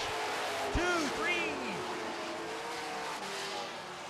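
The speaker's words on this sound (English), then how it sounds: "We've got a 4-car pileup." Super stock race cars spin and pile up on a track, with tyres squealing and engines revving at a distance. Short chirps and skids rise over a steady background rumble while a commentator talks.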